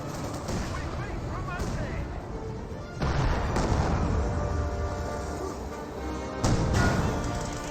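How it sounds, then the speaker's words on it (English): Infantry gunfire and battle noise from a Company of Heroes match, with dense shooting and booms running throughout at steady loudness, swelling at a couple of moments. "Enemy infantry shooting at us."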